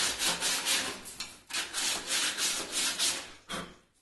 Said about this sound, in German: nehmen wir uns eine Hälfte von dem Schleifpapier, knicken das nochmal durch und schleifen jetzt die Innenkanten ein bisschen rund ab